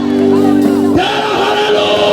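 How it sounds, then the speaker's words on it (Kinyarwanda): Crowd at a church gathering breaks into loud cheering with high ululation and clapping, a steady sustained roar after a brief held vocal note, close and continuous. "dukomere Imana amashyi dushimire Imana"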